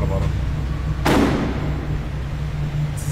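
A door in a horror film shuts with one heavy, booming thud, followed by a dull low rumble and a quiet background hum.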